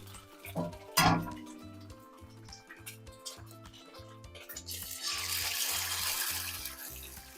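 A very hot stainless steel or cast iron pan, turned up to medium, with an egg frying in it. It gives off a short loud pop near the start, then a rhythmic ticking crackle and a steady hiss that grows stronger toward the end, with no talking.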